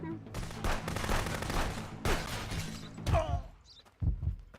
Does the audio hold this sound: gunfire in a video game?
yes